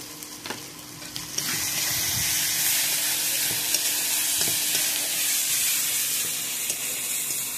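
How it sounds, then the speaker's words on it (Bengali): Spices with turmeric, salt and a little sugar frying in a pan for chicken biryani, a loud continuous sizzle with occasional scraping stirs, close up. "সমস্ত মশলা ভালোভাবে কষে নিয়েছি।"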